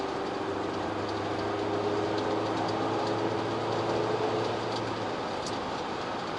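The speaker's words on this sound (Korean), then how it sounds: "엔진 소리 높게 올라옵니다." A loud, constant engine drone with heavy road roar, steady and unbroken, like a SsangYong Rexton Sports pickup with a roof tent cruising at high speed on a highway.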